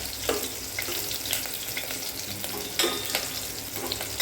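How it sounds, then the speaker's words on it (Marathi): Garlic and green chillies fry in hot oil for kadhi, sending up a constant loud sizzle and crackle up close, broken by brief pops and a few light clinks of a spoon. "थोडा भाजून घ्यायचा आहे आपल्या लसणाला थोडा गुलाबी रंग आला पाहिजे"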